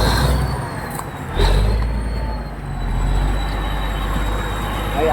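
Engine of a bulldozer brought back to life after sitting seven years, a heavy diesel drone that rumbles close and continuous, with brief sharp hisses and a faint whine riding over it.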